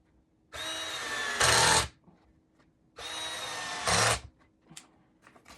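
A power drill drives screws into an Adirondack chair during assembly, two separate whirring bursts of about a second and a half each, each ending with a heavier, louder grind as the screw seats. Light handling clicks follow.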